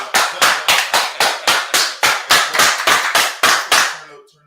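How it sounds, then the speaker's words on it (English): Hands clap in a steady rhythm, about fourteen sharp claps at even intervals, close and loud, ending with a brief fade. "Let's clap it up."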